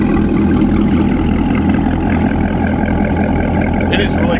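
Chevrolet Corvette ZR1 engine and exhaust idling close by, a steady loud low rumble with a throaty burble, while a person talks over it.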